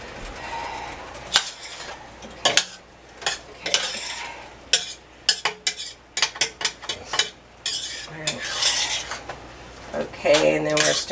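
A spoon scrapes and clinks against a pot while chicken vegetable soup is stirred. The irregular metallic clanks and knocks come close and fairly loud, with a faint sizzle underneath and no talking.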